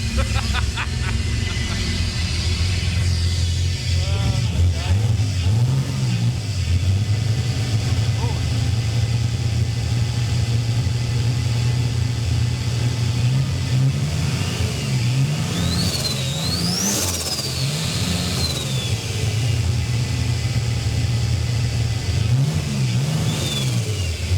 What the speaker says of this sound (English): sounds like a V6.